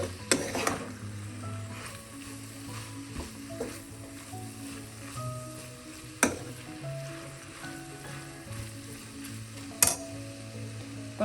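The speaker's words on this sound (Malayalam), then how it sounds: "ഇതെല്ലാം കൂടി ചേർത്തൊന്ന് ഇളക്കാം. പച്ചമണം മാറുന്നവരെ നമുക്കൊന്ന് മിക്സ് ചെയ്യാം." Masala spices frying and being stirred in a pan for Kerala chicken curry, a steady soft sizzle with the scrape of a spoon and a few sharp clinks against the pan, no voices.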